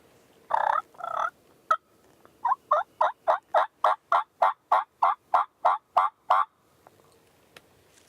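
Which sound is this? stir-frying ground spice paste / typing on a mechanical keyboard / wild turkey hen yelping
wild turkey hen yelping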